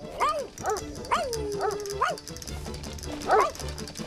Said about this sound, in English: I'm sick and tired of you barking like that all day long.